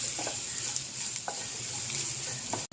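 Vegetables sprinkled with pepper powder are stirred in a hot pan, with a steady low sizzle and a few soft utensil scrapes against the metal over a short stretch.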